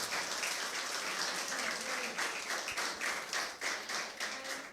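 A church congregation applauds God, a sustained mass of clapping from many hands with a slightly uneven, rippling rhythm, moderately distant and without talk.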